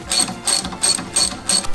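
Ratchet wrench tightening a nut on a Spyker lawn spreader assembly, five quick rhythmic bursts of metallic clicking, close and alone.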